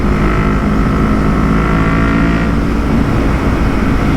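A Yamaha MT-03 motorcycle fitted with a full Akrapovic exhaust rumbles loud and close in one continuous, steady engine drone with no voices.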